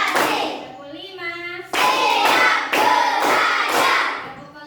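A group in a classroom plays a rhythmic clapping game. Sharp bursts of hand claps come in timed groups, mixed with children's chanting voices between and over the claps.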